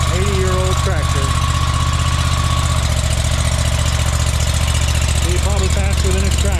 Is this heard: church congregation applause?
no